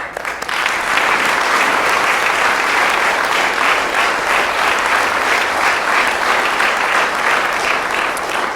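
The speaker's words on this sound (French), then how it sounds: "Et évidemment, une dernière fois, un tonnerre d'applaudissements, s'il vous plaît, pour Anne Gruet." A loud, sustained thunder of applause fills a hall at a French courtroom-themed comedy evening, steady and continuous from a large audience after a brief quieter start.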